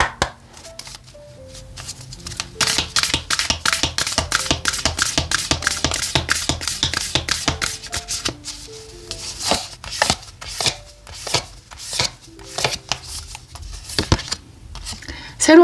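Oracle cards are shuffled by hand in quick riffled, tapping bursts, close up, with a voice talking over parts of it.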